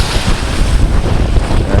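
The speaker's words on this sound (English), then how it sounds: "Look at these waves." Waves wash steadily onto a river shore while strong wind buffets the microphone in a constant roar, with no pauses and no talking.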